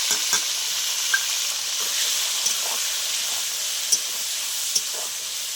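Tomato and ginger fry in hot ghee for a vegetarian jackfruit biryani, giving a steady bright sizzle and hiss with occasional stirring clicks.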